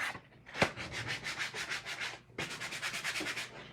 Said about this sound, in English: I'm going to sand the edges of these